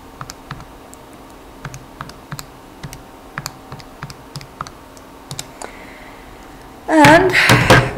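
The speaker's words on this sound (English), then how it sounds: "Hop into your calculator and type that all in." Calculator keys are pressed in a quick, light run of separate clicking taps while numbers are entered. A voice starts abruptly right at the end.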